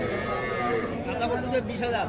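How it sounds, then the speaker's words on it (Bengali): A crossbreed bull calf at a cattle market gives a long, low, droning moo that lasts about two seconds. It sounds close and fairly loud over a busy market background. "প্রথমে একটা ক্রস জাতের সার বাছুর দেখছি"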